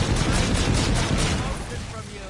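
Sustained rapid gunfire from a gun in the video game Infinite Warfare Zombies (Zombies in Spaceland), a dense, loud, continuous burst with no gaps that eases slightly toward the end.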